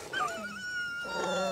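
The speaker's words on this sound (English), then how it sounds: "Oh, oh the dog." A dog whimpers and whines in a movie scene, a high wavering cry rising and falling over about a second and a half against a faint soundtrack.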